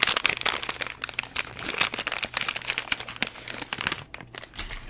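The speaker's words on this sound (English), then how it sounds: "I'm not busting my microphone with this plastic crinkling" Plastic packaging crinkles and crackles in rapid, irregular bursts close up, with sharp snaps spread across the whole stretch and a faint low hum beneath, no talking.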